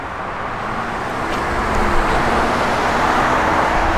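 A 1968 Pontiac GTO Ram Air I cruises along a road, with a steady broadband rush of engine and tire noise that swells slightly and stays constant throughout. No one talks.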